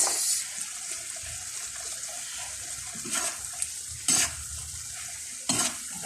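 Vegetables and carrots fry in a pan, giving a steady sizzle with stirring throughout and a few sharper scraping bursts near the end; no voices are heard.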